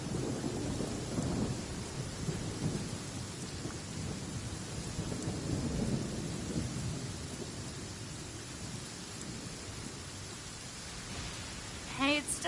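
Steady rain hiss with low rumbling thunder in Genshin Impact, a broad continuous wash that swells and fades, with a short tonal game sound near the end.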